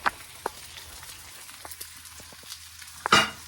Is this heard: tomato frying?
yes